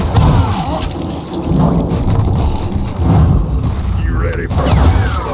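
Thunder rolls in the Call of Juarez Gunslinger video game, loud, heavy booming rumbles that swell in waves over rain-like noise, with a voice speaking over part of it.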